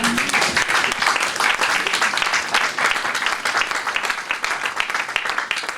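A church congregation applauding the Lord, with sustained, energetic clapping from many hands throughout, dense and even with no break.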